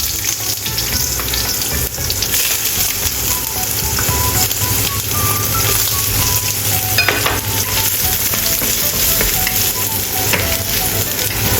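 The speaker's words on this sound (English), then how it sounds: "Stir-fry onion and ginger." Onion and ginger stir-fry in a hot pan, a steady, close sizzle with scraping and stirring throughout, while tomato tofu is being cooked.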